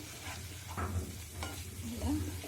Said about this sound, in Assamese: বিলাহীখিনি দিয়াৰ পিছত মই এতিয়া ভালদৰে ভাজি ল'লোঁ।